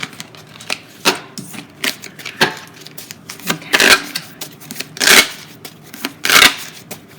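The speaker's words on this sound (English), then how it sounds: "We want to make sure that we got like a good shuffle going on here." Tarot cards being shuffled by hand, a run of crisp riffling bursts and soft taps at irregular intervals, close and fairly loud, with one brief spoken word.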